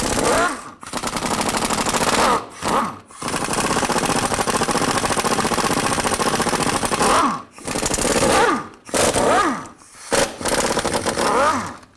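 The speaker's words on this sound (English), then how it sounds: "I'm going to use a 13mm socket, take all these bolts off" Impact gun rattling off differential cover bolts with a 13mm socket on a 2000-06 Chevy Tahoe, loud close bursts of hammering separated by brief pauses.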